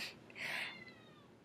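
A single short cat meow, fairly faint and slightly distant, rising then trailing off, over quiet background noise.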